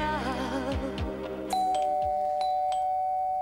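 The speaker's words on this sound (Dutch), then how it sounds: "en toen ging de bel" A doorbell rings in a Flemish TV show segment after a sung line, a bright ding with a sustained ringing tone that lingers over quieter background sound, with no talking over it.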